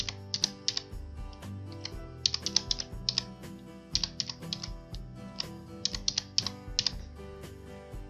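A bank card number is keyed on a computer keyboard, quiet close clicks in short irregular bursts of keystrokes with brief gaps between groups, no voices.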